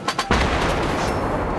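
Battleship main guns fire a salvo in a naval video game, a pair of quick sharp reports followed by a heavy, sustained booming roar that fills the rest of the moment, loud and close.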